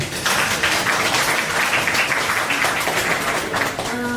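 An audience at a fashion design forum applauds in a continuous burst of clapping, fairly close and full, before fading into a brief tonal chime at the end.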